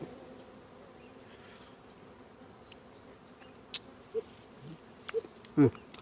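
Small dwarf honey bees buzz around their nest in a faint, steady hum, broken by a few brief knocks and rustles near the end.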